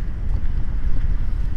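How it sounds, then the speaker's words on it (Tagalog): Strong sea wind at the Abu Dhabi Corniche at night roars steadily across the microphone, a dense low rumble with gusty swells throughout, loud and close. "Ang lakas ng hangin."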